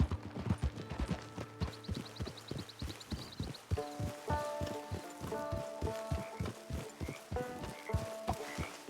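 Horse hooves clip-clop at a steady walking rhythm in the video game Red Dead Online. The hoofbeats are crisp and even, over soft sustained musical tones.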